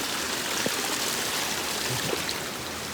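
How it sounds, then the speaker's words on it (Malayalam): Constant rushing of water flowing down a channel, a steady broadband wash with faint gurgles, no voices. "നല്ല വെള്ളം അവിടെ നിന്നൊക്കെ മേളിൽ നിന്നൊക്കെ വെള്ളം ഒഴുകി വരുന്നുണ്ട്"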